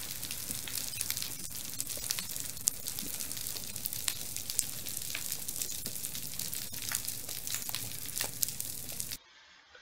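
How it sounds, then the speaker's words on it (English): An underwater coral reef soundscape at a site called turtle tail, a dense crackling hiss of countless tiny snaps and pops overlapping continuously at a low, steady level before cutting off abruptly. "So this is the very typical coral reef soundscape."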